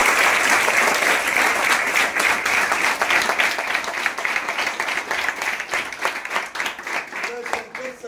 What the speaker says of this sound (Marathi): त्या जेई वाल्यांसाठी सुद्धा टाळ्या वाजवा सगळ्यांसाठी